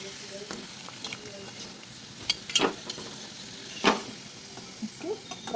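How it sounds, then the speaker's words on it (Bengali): Luchi frying in oil in a village kitchen, a low sizzle punctuated by a few sharp scraping and clattering strokes as the puffed bread is turned in the pan. "লাল লাল করে ভেজে নিতে হবে।"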